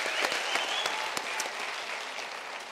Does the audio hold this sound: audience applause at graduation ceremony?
yes